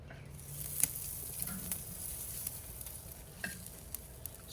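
A steak sears on a grill during a reverse sear, with the top damper closed almost all the way. A faint, steady sizzle carries scattered soft pops and crackles, with no talk.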